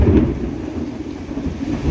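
Thunder rumbles low and heavy during a severe thunderstorm with rain falling, a deep rolling boom that swells at the start and lingers.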